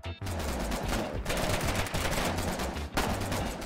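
Sustained video game gunfire, loud and close, with rapid machine-gun-like bursts broken by brief pauses; a voice briefly exclaims over it.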